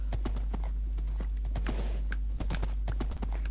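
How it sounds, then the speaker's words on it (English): Horse hooves clip-clop in a video game as a steady run of sharp, close hoofbeats with faint game ambience and a little background chatter. "Michael, that's my fucking horse."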